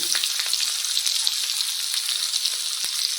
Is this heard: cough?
no